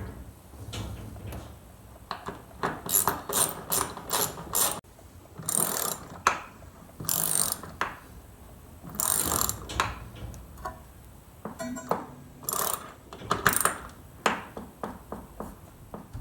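Ratchet wrench tightening the last bolt on a steel brace in a shop during a trailer flip, heard as bursts of rapid close clicking separated by short pauses, with some clanking between strokes.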